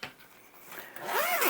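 A water-resistant AquaGuard zipper on a pocket of a Vessel pickleball paddle bag is pulled once, a short, close rasping zip that rises at the end.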